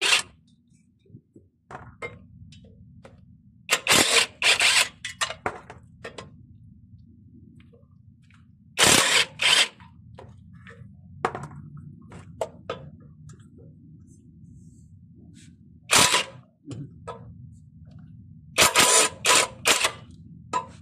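Ratchet wrench with a short extension turning a stuck bolt: four or five bursts of rapid metallic clicking, close and sharp, separated by quiet stretches over a faint low hum.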